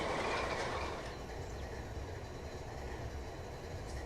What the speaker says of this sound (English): Gurgle and vorble to life.